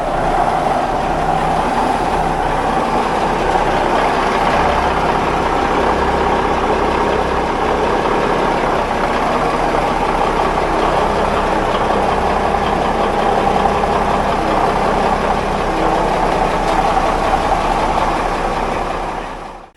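Engine on an expedition boat running steadily, a continuous loud drone with a constant mechanical rumble, no voices, ending abruptly.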